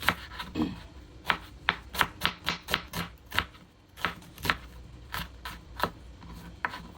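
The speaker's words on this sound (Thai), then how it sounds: "แล้วก็จะมาหั่นหอมเนาะ" A knife slices shallots steadily on a cutting board, crisp sharp taps in an uneven rhythm, close and clear with no talking.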